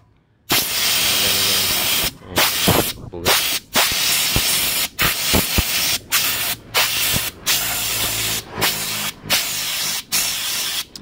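Compressed air blasting from a nozzle across the fins of an AC condenser during dry cleaning: loud, close hissing bursts that run for a second or so each, separated by short, sharp pauses.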